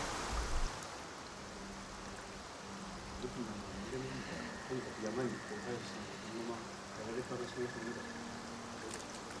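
Waterfall roaring steadily in the video game Assassin's Creed Shadows, a constant broadband wash of rushing water that runs under the whole stretch, with game music and ambient tones layered over it.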